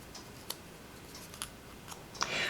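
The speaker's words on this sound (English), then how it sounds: "I am just going to take my little scissors and I'm going to cut that like that" Small scissors snip paper for a pop-up card, a few short crisp cuts spaced apart, then a brief rustle of the paper, quiet and close.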